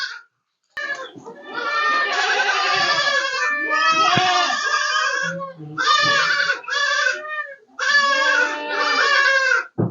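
Goats bleat repeatedly around hung leaf fodder, a series of loud, close cries in clustered bursts separated by short pauses.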